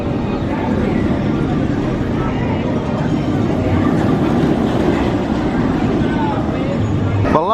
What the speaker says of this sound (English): Looks like the VelociCoaster is getting ready to reopen. They're warming it up with empties.